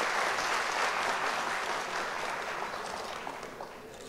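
Audience applause welcoming a guest at a Hindi-Marathi book launch event, a dense wash of clapping from a sizable crowd that slowly tapers over a few seconds, no speech over it.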